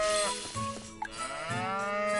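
Cows in the Harvest Moon: Light of Hope farming game moo in long, loud, drawn-out calls, one after another, over quiet game music.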